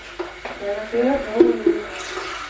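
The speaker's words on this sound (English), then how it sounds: "we're gonna start off by filling our kettle up" Tap water runs into a kettle in a home kitchen, a close splashing stream that rises and wavers for a couple of seconds, with faint voices in the background.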